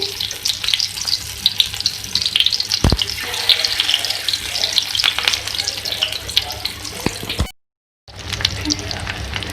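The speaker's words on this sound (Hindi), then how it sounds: "इस तरीके से हम सारे फ्राई करेंगे।" Beef tawa kababs frying on a griddle, a loud, close, crackling sizzle that runs on steadily and then drops out for a moment before resuming.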